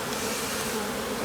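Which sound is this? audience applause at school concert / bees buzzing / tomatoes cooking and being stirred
bees buzzing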